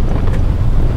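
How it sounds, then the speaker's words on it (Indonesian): Steady low rumble and hiss of tires rolling on pavement, heard from inside a moving car, constant and fairly loud. "Suara road noise, gesekan antara ban dengan aspal, itu juga cukup mengganggu."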